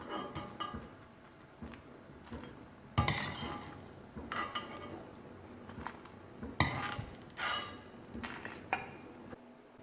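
Buttermilk chillies being taken out of a pan after dry roasting, with scattered metal scrapes and clinks of a spoon against cookware and a few louder clattering bursts, no talking.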